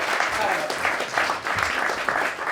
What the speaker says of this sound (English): Let's have a round of applause for this person.